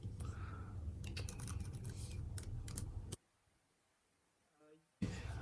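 Typing on a computer keyboard, a rapid run of close, quiet key clicks for about three seconds, then near silence with a faint murmur of talk before the clicking briefly resumes.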